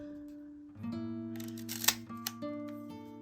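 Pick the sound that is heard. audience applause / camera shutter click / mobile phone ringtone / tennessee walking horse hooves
camera shutter click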